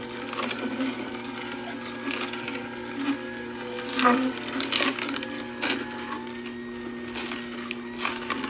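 A Ninja NeverClog cold press juicer grinds and crushes celery, a steady mechanical whir with cracking, splintering bursts as stalks feed through, close and continuous.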